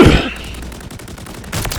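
Gunfire in the Modern Warfare 3 beta video game: a loud close burst at the start, then rapid automatic fire in a quick rattling rhythm, with a second burst of shots at the end.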